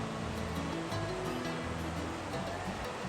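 Steady rushing water of Red Creek, where Big Stone Coal Run joins it in the Roaring Plains, flows continuously at close range, a broad even wash with no voices.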